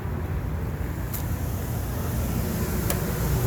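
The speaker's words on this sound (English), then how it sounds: "I got the generator running right now" Generator running on a 2009 Forest River Lexington Grand Touring Class C motor home with a fiberglass body, a steady low droning rumble held at constant level throughout, with two brief faint clicks over it.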